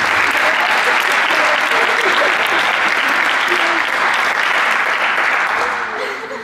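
A high school post-prom crowd bursts into loud, dense applause that holds steady for several seconds before tapering off toward the end, with faint crowd murmur mixed in.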